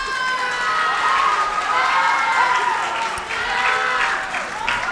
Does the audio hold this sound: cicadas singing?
no